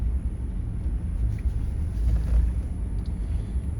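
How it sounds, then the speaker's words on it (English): Far-off thunder after rain near Goose Island State Park: a faint, low rolling rumble swelling briefly in the middle, heard from inside a moving car under steady road and wind noise, with no talk. "There's thunder in the distance right now."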